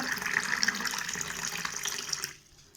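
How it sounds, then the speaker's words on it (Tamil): Tap water pours steadily into a tumbler for green mango juice, a close, bright splashing stream that cuts off abruptly near the end, with no talking over it. "இந்த டம்ளருக்கு தேவையான அளவு தண்ணி ஆட் பண்ணுறோங்க."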